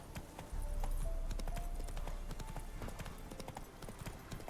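Roach the horse from the game Witcher 3 gallops in steady, rhythmic hoofbeats, loud and close, with faint game sounds around.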